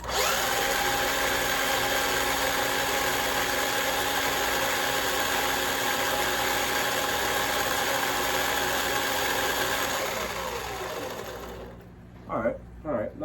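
A Red Cat RC car with a metal drive shaft runs at full throttle on a stand, giving a loud, steady high-pitched motor whine and drivetrain buzz for about ten seconds before winding down, followed by brief low thumps.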